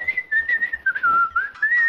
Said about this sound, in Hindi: सीटी बजा रहा था